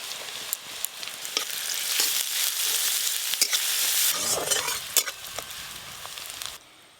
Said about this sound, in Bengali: তেল ভালো করে গরম হয়ে গেছে, প্রথমেই দেব পেঁয়াজ কুচি, আদা কুচি, রসুন কুচি